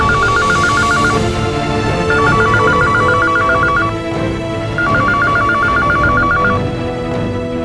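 A phone dials a quick run of tones, then an electronic ringing tone repeats in three evenly spaced bursts, loud and close.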